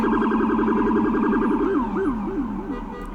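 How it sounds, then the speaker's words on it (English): A wailing emergency siren, apparently an ambulance, rises and falls in steady cycles, loud and close at first, then sweeping in quicker yelps as it fades slightly; no talking. "I love that siren sound."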